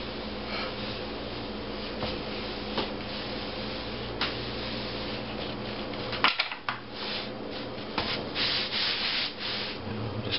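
A rolling pin works sticky white bread dough across a floured wooden board with a continuous close rubbing, scraping sound, broken by a sharp knock partway through and a few light taps.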